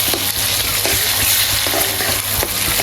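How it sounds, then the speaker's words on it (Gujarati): A spoon stirs chopped tomato pieces through a sizzling gravy for a Gujarati peanut bhajiya curry, with steady frying hiss and repeated scraping strokes against the pan. "તો આપણે ટમેટાની કટકી પણ અંદર નાખી દીધી છે ને એને સારી રીતે મિક્સ કરી નાખશું"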